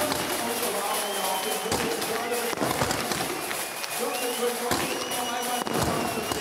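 Fireworks go off at the 2016 DTM championship celebration at Hockenheim, with repeated sharp bangs and crackles over a loud crowd while a commentator talks over them.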